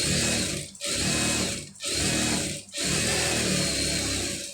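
A sewing machine stitches a garment sleeve seam, running in steady loud bursts separated by three brief stops, with no voices.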